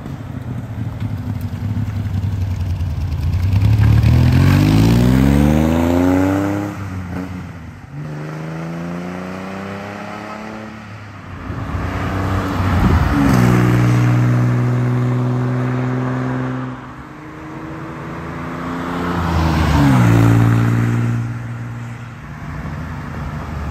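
A 1965 Chevrolet Corvair Corsa Fitch Sprint with a flat-six engine drives past repeatedly, its engine note rising through the gears and swelling as the car nears, then fading as it leaves.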